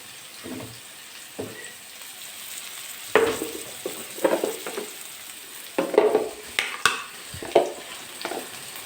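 Curry leaves sautéing in hot oil with ginger for a Kerala sardine curry made with kudampuli, giving soft intermittent sizzles and spatters with occasional scraping stirs close by.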